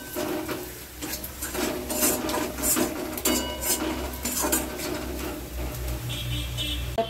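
Spiced egg masala with chili powder, turmeric and mustard being stirred and sautéed in a pan, a spatula clinking and scraping against the metal in steady, busy strokes throughout.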